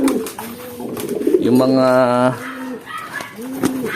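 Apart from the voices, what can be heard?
pigeons cooing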